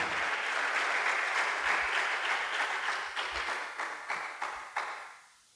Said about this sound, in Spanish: Démosle aplausos al Padre, al Hijo y al Espíritu Santo.